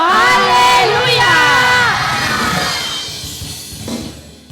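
A church congregation at a Sunday service shouts together in a loud, sustained crowd roar of raised voices. The noise rises in overlapping calls and then fades toward the end.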